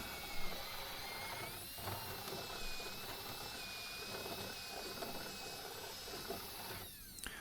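A paddle bit bores all the way through a wooden piece for a sauna door, giving a steady, close, whirring power-drill drone that runs unbroken for the whole stretch.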